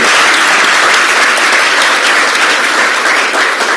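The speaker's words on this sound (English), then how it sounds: "let's give a big applause for them" An audience at an Asia Society event bursts into loud, dense, sustained applause that holds steady for several seconds, with no voices over it.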